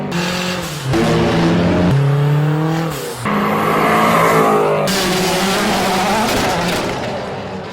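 A Nissan Juke engine runs loud and close, revving up and down in several rising and falling surges with brief drops between pulls, no voices over it.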